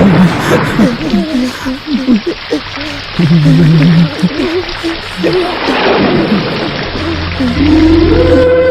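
Heavy rain pours steadily through a scene in a Malayalam-dubbed Kannada film, with deep thunder-like rumbles and several voices talking over the downpour throughout.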